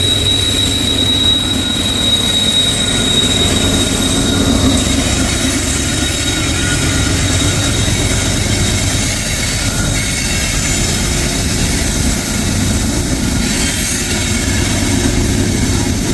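A heavy freight train with a mid-train DPU locomotive labors up a steep grade, its engine roaring in a loud, unbroken drone with a thin high whine over rumbling wheels throughout.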